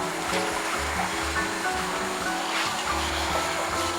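Wet sanding car paint by hand with the hard black side of a sanding block, steady close rasping and swishing strokes repeating in a rough back-and-forth rhythm over a continuous wet hiss.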